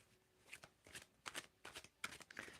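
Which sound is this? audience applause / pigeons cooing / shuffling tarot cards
shuffling tarot cards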